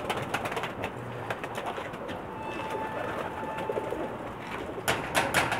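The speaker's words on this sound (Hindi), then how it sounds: "डब वाला कबूतर हम आपको दिखा रहे हैं।" Low, throaty Pakistani pigeon cooing repeats in soft rolling phrases, close by, with wing flutters and rustling noises around it.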